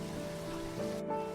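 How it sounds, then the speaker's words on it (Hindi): Rain falls steadily on a dry farm field, a dense, even hiss with a low hum beneath, lasting only a moment. "बारिश आ गई।"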